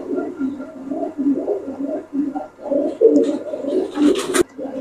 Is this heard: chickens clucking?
no